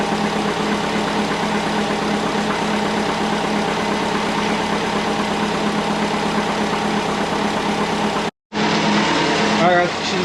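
A Nissan Skyline engine idles steadily after starting and warming up, a loud continuous rumble with a brief cutout near the end before resuming.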